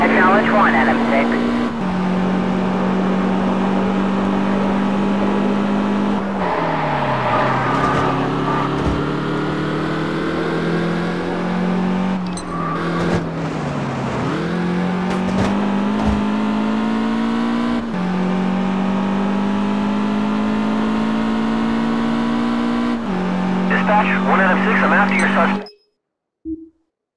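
A police pursuit car in the racing game Test Drive Unlimited sustains a loud, steady engine drone with shifting revving tones and brief pitch dips, running continuously before cutting off abruptly near the end.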